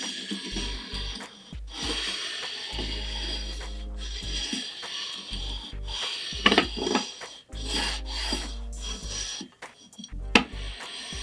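Fresh 500 grit sandpaper rubs in rasping back-and-forth strokes across the frets of a 1973 Fender Precision Bass during a refret, with bursts broken by short pauses and a couple of sharper scrapes near the end.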